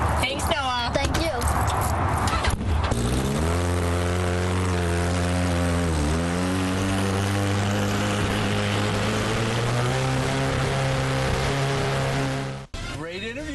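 A young racer's car drives away with a strong engine drone of stacked harmonics that dips and recovers in pitch, loud and close, then cuts off abruptly. Talk and noise are heard at the start.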